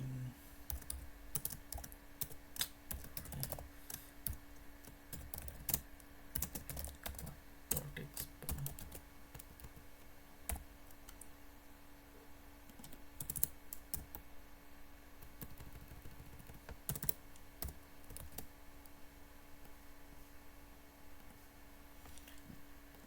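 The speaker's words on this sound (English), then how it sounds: "You have to type something here" Someone types on a computer keyboard in quiet, irregular bursts of clicking keystrokes over about twenty seconds, close and fairly soft, with a faint steady hum underneath and no speech.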